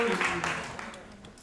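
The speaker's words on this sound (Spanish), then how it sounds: "Le damos un aplauso a los expositores" A seminar audience applauds the presenters in a short burst of clapping, with a voice talking over it.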